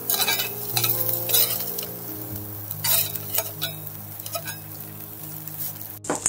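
Cod sizzling and frying in an oiled skillet, a steady close crackle with occasional spattering pops and a brief utensil scrape, no talking.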